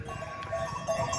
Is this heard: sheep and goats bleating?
yes